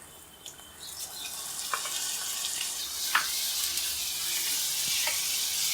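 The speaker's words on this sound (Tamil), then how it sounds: "இப்போ நல்லா இஞ்சி பூண்டு பேஸ்ட்டோட பச்சை வாசனை போகிற வரை நல்லா வதக்கிடலாம்" Ginger garlic paste sautés with softened onions in a pan for chicken gravy, a steady sizzle building slightly, punctuated by scattered scraping clicks of a spoon stirring.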